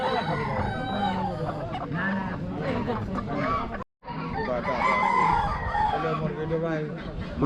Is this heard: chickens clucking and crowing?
yes